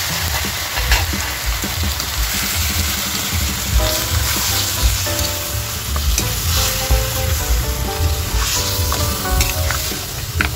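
Pork spare ribs marinated in soy sauce, bay leaf and ground pepper drop into a hot pan for caldereta, setting off a loud, close, sustained sizzle with crackling pops and occasional utensil clatter.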